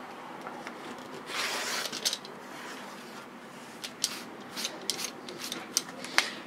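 Scissors cutting patchwork fabric at close range, with a steady soft rubbing rasp and a run of light crisp snips toward the end, no voices.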